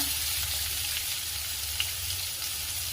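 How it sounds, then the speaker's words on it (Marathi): Chopped onion sautéing in a pan with asafoetida, garlic and green chillies, giving a steady, close sizzle with a faint hiss throughout and no talking. "कांदा व्यवस्थित परतून घ्यायचा"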